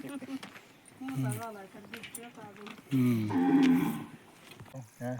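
Cows heading into the shed in the evening moo repeatedly, several long lowing calls nearby, the loudest drawn-out one in the middle, with people talking in between.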